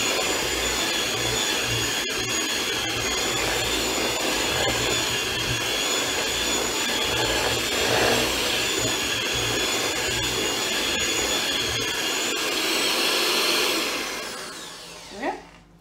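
Electric mixer beating cake batter with a heap of sultanas, a loud steady whirring motor running for most of the stretch before winding down near the end, with faint talk underneath.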